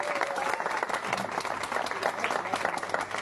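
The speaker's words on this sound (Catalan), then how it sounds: "un fort aplaudiment per l'organització" Steady applause from a crowd at a lunch gathering honouring the organisers of a school cup, dense continuous clapping held at an even level for a few seconds.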